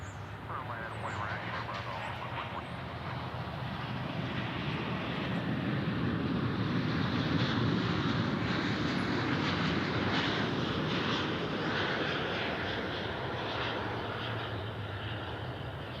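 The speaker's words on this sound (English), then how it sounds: "I think I hear a 777." A Boeing 777 jet airliner passes at DFW airport. Its roar swells to a loud peak midway through, then slowly fades. Some talk runs faintly underneath.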